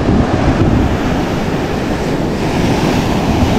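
Strong sea waves pound the shore in a steady, loud roar of surf, with wind buffeting the microphone throughout and no other sounds standing out.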